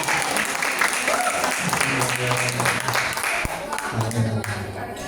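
An audience at an Islamic finance gathering breaks into applause, steady crowd clapping running throughout while a voice speaks over it through an amplified system.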